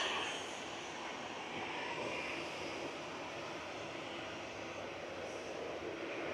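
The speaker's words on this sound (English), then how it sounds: "TUI is next up for departure on T3 left, heading to Kos with flight 2764" A TUI jet departs Manchester Airport bound for Kos, its engines sending a faint, steady roar across the field, heard from a distance with no talking.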